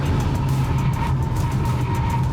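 A Renault Twingo's small engine hums steadily while the car corners hard with lift-off oversteer, a continuous mid-loud drone and road noise with no talking.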